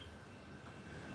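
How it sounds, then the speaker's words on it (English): A train passes at a distance in the early morning, heard as a steady, faint rumble with rail noise throughout and no voices. "I ran out here because I heard the train"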